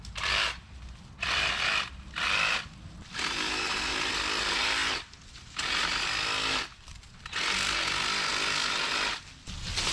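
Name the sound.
trimming a path with a power saw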